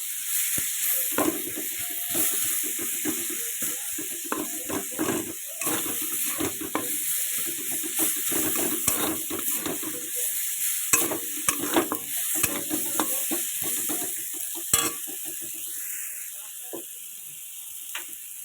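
Cauliflower fries in a pan with a steady sizzle, while a spoon scrapes and stirs it in frequent irregular strokes.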